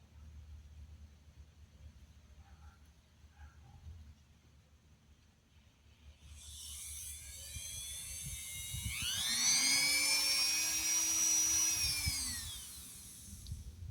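A power chainsaw-chain sharpening tool spins up to a high-pitched whine after a quiet start, holding a loud buzzing tone and then sliding down in pitch as it slows.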